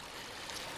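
Creek water flows in Onion Creek, Texas, a steady, broad wash that is close and fairly soft, with no voices over it.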